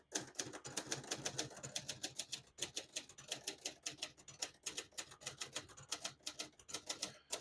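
Rapid typing on a 1967 Hermes 3000 portable typewriter, a quick, even run of crisp key strikes clattering close by with only brief pauses, and no voices.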